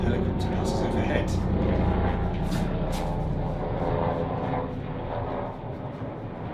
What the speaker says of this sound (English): I might just pause for a moment while that helicopter passes overhead